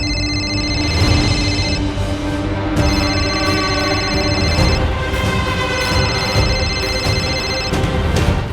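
A telephone rings in repeated melodic bursts with nobody picking up, in a Hindi TV drama household scene, steady and prominent over a busy background.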